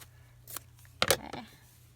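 Scissors snipping blue pieces off fabric, two or three quiet close crisp cuts in quick succession over near silence.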